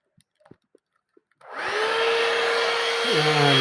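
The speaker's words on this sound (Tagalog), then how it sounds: "Tapos ito, blower natin yung mga bulat." After a few faint taps, a heat blower starts up over a fresh epoxy coating on a bathroom floor, running as a loud, steady whooshing roar, its pitch shifting slightly near the end.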